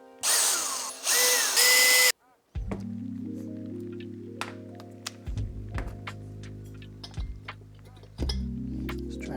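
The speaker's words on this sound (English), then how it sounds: "Now I'm just gonna take out the burn chamber. You just undo these bolts right here." Bolts being undone on the burn chamber of a diesel heater with a power drill or driver: a loud whirring burst at the start, then a series of clinks, taps and metallic knocks as parts come loose, with low hum throughout.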